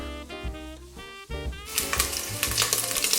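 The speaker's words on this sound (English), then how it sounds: "Medium-high heat, get the bacon in to render out the fat and caramelize." Bacon hitting a hot pot over medium-high heat for a French red wine beef stew, a brief stir then a steady, close sizzle of rendering fat that builds and crackles.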